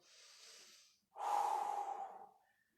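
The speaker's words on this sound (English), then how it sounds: "Good. Keep breathing." Heavy, forceful breathing during a home workout exercise: a softer breath, a short pause, then a louder, longer exhale with a snort-like rush of air, close and clear with no talking.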